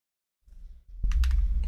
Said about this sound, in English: Hopefully my keyboard isn't breaking anyone's eardrums.